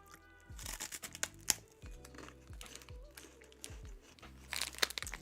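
Close, quiet crunching and crinkling of someone chewing a crisp corn snack, with irregular bites and crackles and no talking.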